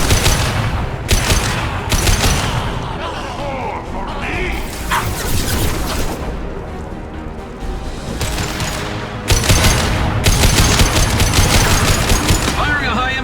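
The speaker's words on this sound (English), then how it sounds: "Firing a high-impact shot!" Gunfire in the video game Mass Effect 2, with rapid automatic bursts in loud clusters separated by brief lulls, mixed with voices, shouts and battle noise.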